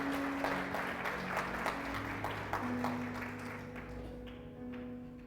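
A church congregation claps during a Spanish-language sermon, soft and somewhat distant, fading gradually over a steady low hum.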